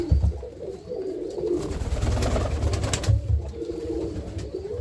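Roller pigeon hens cooing inside a loft, a steady low murmur of soft coos from several birds close by, continuous throughout with no talking.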